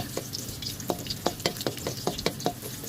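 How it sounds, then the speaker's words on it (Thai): Garlic stir-fries in a hot pan for an egg-fried instant noodle dish, with a steady sizzle under a close, rhythmic series of sharp spatula scrapes and taps. "ใส่กระเทียมลงไปค่ะ ผัดให้หอมค่ะ"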